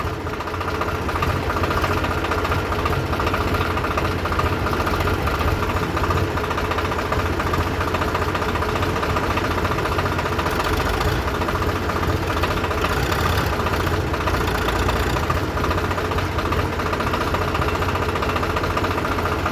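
A diesel tractor engine chugs at idle, a constant low rattling drone that stays even throughout, heard nearby with no voices over it.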